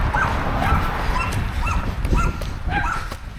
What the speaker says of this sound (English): Those tiny dogs spooked me.